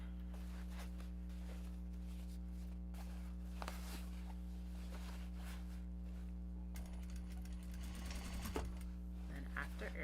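A sewing machine runs top stitching along a Japanese fabric bag, a fast, even mechanical whir held close, quiet overall, with a brief louder clatter of handling near the end.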